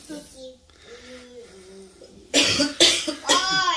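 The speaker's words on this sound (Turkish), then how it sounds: "Dolu dolu bir öksürük var." Someone speaks softly, then coughs three or four times in quick, loud, close bursts.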